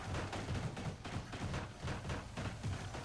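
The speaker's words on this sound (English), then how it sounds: "They're still fighting here, you can hear them." Prisoners brawling inside a prison in the game Prison Architect, a dense, continuous clatter of rapid thuds and crackling hits at steady loudness with no voices.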